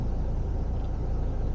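Steady engine and road rumble inside a new Toyota Innova, captured by a camera's built-in microphone, a constant low drone with no breaks and no voices.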